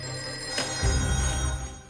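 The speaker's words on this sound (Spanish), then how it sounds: "El teléfono del sheriff Wilcox no dejaba de sonar." A telephone rings in the office of Sheriff Wilcox, who is flooded with calls. It comes as a steady electronic ring over a dense low rumble, with no voices.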